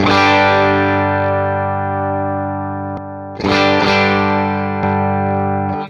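A distorted electric guitar chord rings out loud and sustained, then is struck again with a fuller tone boosted by a Jackson Audio Golden Boy pedal, decaying slowly.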